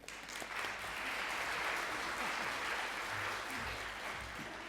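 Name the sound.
audience applause welcoming a speaker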